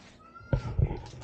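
A cat meows a couple of times, close and fairly quiet, over soft background noise in a home setting.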